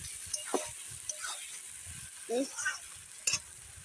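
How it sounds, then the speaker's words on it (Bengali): Chicken fries in a pan with a soft, fairly faint sizzle and scattered scrapes and knocks of a spoon stirring it. "এখন চিকেনটা দিয়ে চিকেনটা দিয়ে দিলাম দিয়ে এখন ভালো করে নেড়ে চুলে কষিয়ে নেব"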